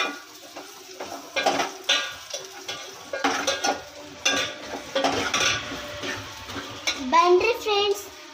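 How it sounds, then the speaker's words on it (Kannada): Mustard seeds, onion and garlic being fried and stirred in a pan, with a spoon clattering and scraping against the metal in uneven bursts, close up with faint sizzling underneath. "ಆಮೇಲೆ ಈರುಳ್ಳಿ ಬೆಳ್ಳುಳ್ಳಿ ಎಲ್ಲ ಸೇರಿಸಿದ್ದು ಹಾಕಿ ಫ್ರೈ ಮಾಡ್ಕೊಬೇಕು ಚೆನ್ನಾಗಿ"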